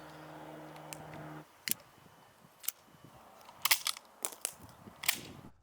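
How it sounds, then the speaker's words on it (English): Break-action CO2 airsoft pistol opened, shells pulled out and reloaded: a short hum at first, then a scattered series of sharp metallic clicks and snaps, close and fairly quiet. "my favorite feature is the break action design, true to its real gun counterpart. It makes taking out these shells and reloading more super fun."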